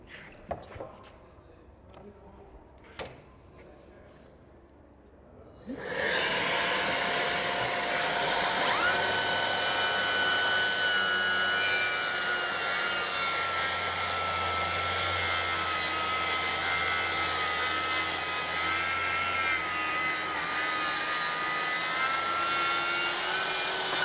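A Milwaukee Fuel Edition cordless power tool with a high-output battery switches on after a few seconds of quiet clicks and runs at a loud, steady, high-pitched whine without pause.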